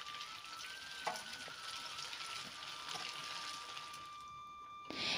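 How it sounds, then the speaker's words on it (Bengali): Batches of nasta snacks frying in oil, a steady close hiss and sizzle with a few stirring clinks and a sharp knock near the end, no talk. "একইভাবে যে বাদবাকি নাস্তাগুলো রয়েছে সেগুলোকেও এখন আমি ভেজে নিচ্ছি।"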